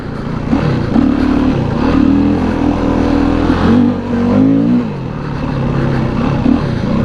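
A dirt bike engine revs hard on a dirt track in Pakistan, rising and falling in pitch as it accelerates, loud and continuous throughout with no voices.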